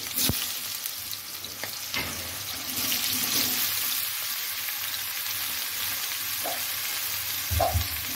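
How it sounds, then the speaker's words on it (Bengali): Young jackfruit pieces fry in hot oil with a steady, dense sizzle throughout, broken by a few sharp clicks and spatters near the start and a louder burst toward the end, with no one speaking. "তেলটা গরম হয়ে গেছে, এখন আমি এঁচোড়গুলো দিয়ে দেবো তেলে"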